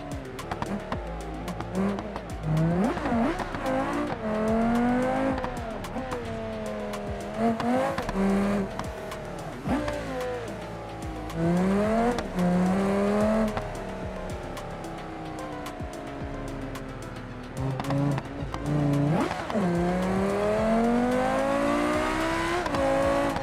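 A GD808 hypercar mod in the BeamNG Drive video game, accelerating hard on a drag strip, engine screaming upward in repeated sweeps through the gears with brief dips between shifts, loud and close throughout.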